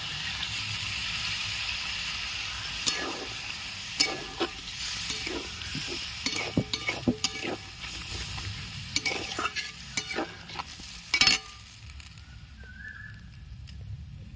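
Water poured into a hot pan of poppy seed curry with onion and potato brings steady sizzling and bubbling, broken by a string of sharp clatters and stirring knocks before it quiets near the end.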